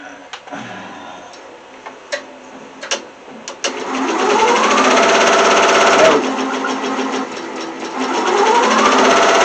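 A sewing machine stitches a plush toy: a few scattered clicks and taps first, then the motor whirs into a steady, fast rattling run that continues loudly to the end, with a brief dip midway.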